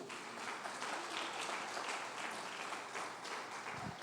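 A congregation claps during a church sermon, a soft, even wash of applause heard from some distance that holds steadily for about four seconds.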